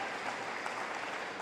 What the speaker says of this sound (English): ovation from the crowd as well